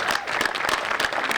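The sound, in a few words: crowd applause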